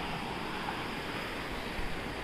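Waves wash in along a shore beside high hills, a continuous broad surf roar with wind buffeting the microphone, no voices.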